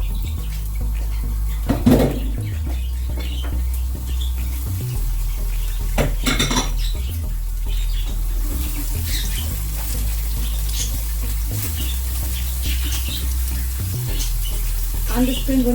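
Peppers sauté in olive oil in a pan, a steady soft sizzle under frequent clanks of a utensil against the cookware, with a faint voice now and then.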